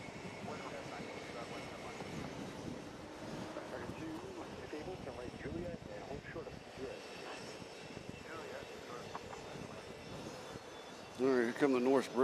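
Airplanes taking off from JFK International Airport, a steady broad roar of jet engines running the whole time, with a louder, closer surge near the end and people talking over it.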